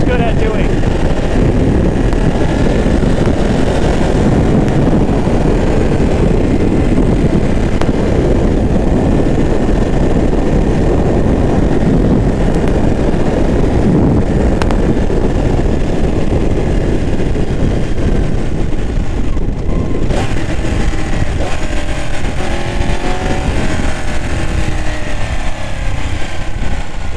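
Ducati track motorcycle ridden at speed, a loud continuous engine roar mixed with heavy wind buffeting on the microphone, steady throughout with a slight change in pitch near the end.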